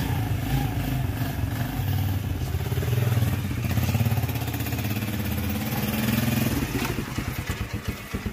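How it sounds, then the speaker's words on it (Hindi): A new motorcycle engine runs steadily nearby with a rough, continuous rumble, briefly swelling as if revved before settling back toward idle. "ये रही जी अपनी न्यू बाइक, ये लेके चलते हैं आज।"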